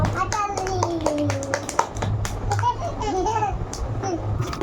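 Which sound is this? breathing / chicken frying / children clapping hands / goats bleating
children clapping hands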